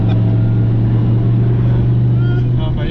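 A nitrous-equipped Dodge Viper ACR cruises at around 90 miles an hour, its loud, steady engine drone and road roar filling the cabin without a break.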